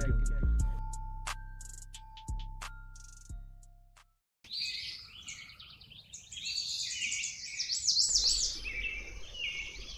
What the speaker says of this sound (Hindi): चिड़ियों की चहचहाट वातावरण को मनमोहक बना रही थी।